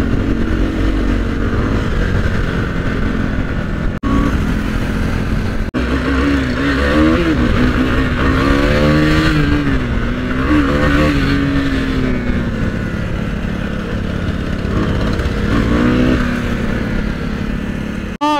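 A Z900 motorcycle engine drones and revs up and down continuously while weaving through Delhi road traffic, loud and close throughout.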